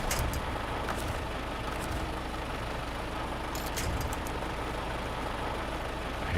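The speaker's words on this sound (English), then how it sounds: "I hate that sound of gas just being burnt." Truck engine in the SnowRunner video game revving steadily at high load and burning fuel, a constant loud dense drone that holds unbroken throughout with no talk.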